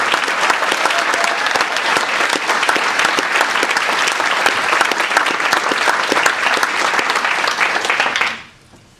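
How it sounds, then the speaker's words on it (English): Sustained loud applause from a banquet crowd honors contestants at the 2009 National Beef Cook-Off gala, steady for about eight seconds before cutting off abruptly. "let's give an applause to all these great contestants"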